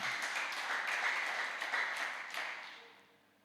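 A church congregation at Sunday worship claps for God, a broad crowd of hands applauding steadily and then thinning and fading out toward the end.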